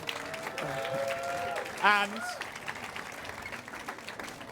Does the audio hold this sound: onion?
no